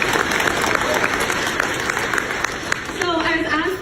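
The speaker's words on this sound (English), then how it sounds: "you guys have to give yourselves a round of applause for being here yourselves." A crowd at a convoy rally inside the Legacy Centre in Lesser Slave Lake gives steady, dense applause at moderate volume. A voice begins speaking into a microphone over the last second.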